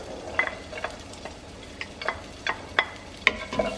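Garlic stir-fries in a hot pan with a steady background sizzle, punctuated by repeated scraping and clacking strokes of a utensil against the pan at an uneven rhythm, close and clear without talk.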